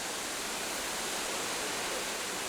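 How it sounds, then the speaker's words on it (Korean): Steady broadband rush of stream water flowing through a deep, densely wooded valley in an arboretum on an island in Wando, South Jeolla, continuous and fairly soft with no voices. "울창한 숲속 깊은 계곡에 흐르는 물소리가 시원스럽다"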